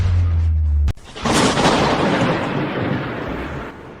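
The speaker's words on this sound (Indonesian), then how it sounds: "Kok tiba-tiba ada petir?" After a brief low hum, a loud crack of thunder bursts in and rolls on as a long, rumbling roar that slowly fades.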